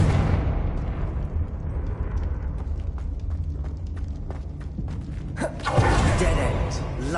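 Confringo spell in Hogwarts Legacy, a deep rumbling fiery blast that swells and rolls on, then a sharper burst near the end, with a voice speaking over it.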